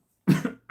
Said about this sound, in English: I'm coughing because I've just come back from a run